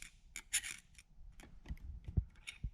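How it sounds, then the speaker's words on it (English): A flathead screwdriver pries at a C-clip on the rear axle of a 2007 Chevy Silverado 1500, making short, scattered metallic scrapes and clicks with a few dull knocks in between. "Let's see if the good old flathead can get her out."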